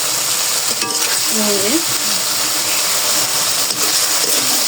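Spice masala sizzles and fries in a pan, a steady loud hiss with occasional stirring scrapes, and a brief faint voice or tonal sound near the start, otherwise continuous frying without clear speech.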